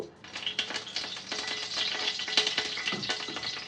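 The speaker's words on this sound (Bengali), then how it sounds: "এখন আমি সবার প্রথমে মরিচটা দিয়ে দিলাম মরিচটা হালকা একটু" Dried red chili crackling and sizzling in hot oil in a pan while cooking squash bhaji, a steady dense fry close up with no talking.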